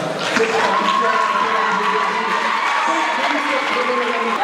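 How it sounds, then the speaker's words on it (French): A crowd claps and cheers for a debate team at a public debate, a steady, dense wash of applause with voices mixed in, holding evenly for several seconds. "est-ce qu'on peut applaudir cette équipe?"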